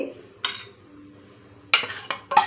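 Dishes and utensils clink in short bursts as chicken curry cooked with chukka kura (sorrel leaves) is served into a bowl, with a few close, sharp knocks separated by quiet.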